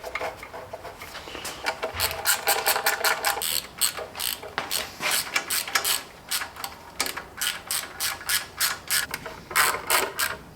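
Rapid clicking of a hand ratchet tightening the turbo inlet on a Nissan GTR, repeated quick strokes in bursts with brief pauses, close and moderately quiet.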